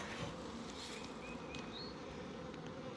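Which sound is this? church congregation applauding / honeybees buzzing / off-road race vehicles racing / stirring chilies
honeybees buzzing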